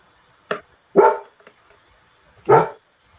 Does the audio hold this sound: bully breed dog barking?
yes